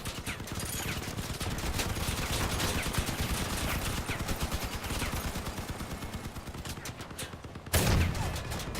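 Vehicle-mounted cannons fire in a Crossout battle, dense overlapping rapid bursts of loud gunfire running almost continuously, with a sharp heavy blast near the end.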